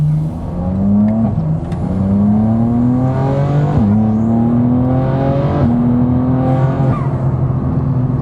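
A 2026 BMW M4 with aftermarket intakes, inlets and a transmission tune revs loudly up close, climbing through several rising pulls with sharp shifts between them, no voices.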